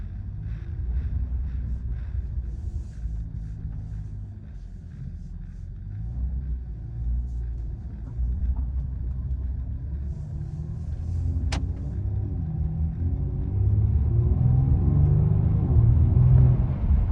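A Genesis G70 fitted with BMS air intakes rumbles from inside the car, a low steady engine drone with faint intake whoosh that builds louder toward the end as the car accelerates.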